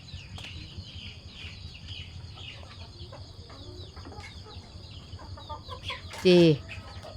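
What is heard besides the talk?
chickens climbing up onto the house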